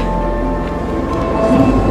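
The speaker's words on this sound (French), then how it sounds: "Je vais maintenant prendre le Shinkansen" A Shinkansen high-speed train rumbles heavily and steadily at a Japanese station, a loud continuous low drone with faint tonal whines above it.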